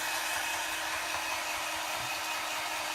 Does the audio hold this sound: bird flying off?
no